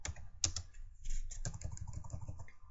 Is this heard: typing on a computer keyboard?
yes